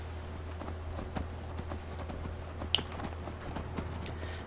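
Horse hooves clip-clop steadily in Skyrim, the sharp hoof strikes fairly close over a constant low ambient hum, with one louder knock partway through.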